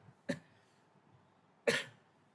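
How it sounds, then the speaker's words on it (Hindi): Two separate coughs, close and fairly quiet, the second stronger and a little longer, with near silence between them. "थोड़ी खांसी आ रही है"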